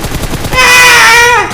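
Rapid gunfire in the PUBG Mobile video game, a loud close burst of quick shots, followed by a high rising whine-like tone fading out.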